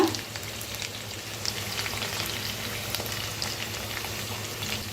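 Okra and potato masala sizzles steadily in a pan while being stirred, a continuous close crackling fry with faint scraping.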